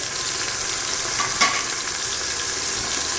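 Green peas, crushed green chilies, garlic and ginger sauté in a hot pan for tomato rice, giving a steady close sizzle with a brief stirring scrape midway and no talk.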